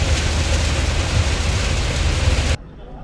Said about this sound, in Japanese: こんなに降ったことないぐらい雨降ってます。